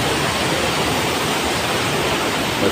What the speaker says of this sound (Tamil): ஃபஸ்ட்டு பழைய பாலத்து மேலே போகுது தண்ணி.